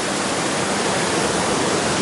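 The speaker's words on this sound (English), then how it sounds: "Another beautiful, beautiful creek." Steady rushing water from a creek along the Foothills Trail, a dense, constant hiss and babble with no pauses or voices.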